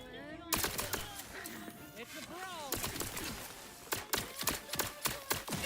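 Rapid barrage of video game gunfire, sharp repeated cracks clustering toward the end over game effects and tonal sweeps, with a voice talking early on.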